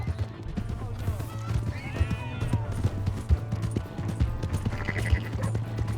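Hooves clop rhythmically and a horse whinnies loudly in the video game Red Dead Redemption 2, with near, steady galloping beats throughout and a shrill neigh partway through.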